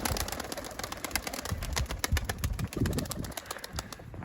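Hungry pigeons crowd close outdoors near a caught runaway bird, giving soft low coos amid a steady stream of scuffling, pecking clicks and occasional wing flutters.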